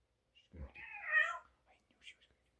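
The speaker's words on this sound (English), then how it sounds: "Don't you meow one more time" A house cat meows in a single drawn-out call near the mic, followed by a couple of faint, short chirps on a hot day indoors.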